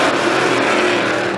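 Street stock race cars accelerating hard on a restart at Star Speedway, a loud dense engine roar filling the whole moment.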